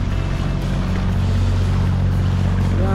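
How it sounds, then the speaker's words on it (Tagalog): Small motorboats on a Venice canal in Italy, a steady low engine drone with water wash and light wind, continuous and fairly close for the whole stretch. "Yan, mayroon din mga maliliit na bangka."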